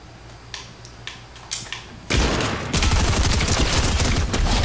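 Gunfire in the Fortnite video game opens with a few sparse shots, then breaks into loud, dense, sustained bursts of automatic fire that continue to the end.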